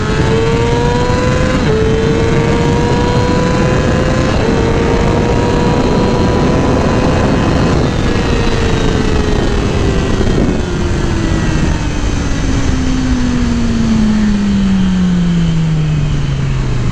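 A Yamaha R6 600cc sport bike engine revs hard in first gear, its whine climbing in pitch through a long, loud pull before falling away toward the end, with steady wind rush behind it.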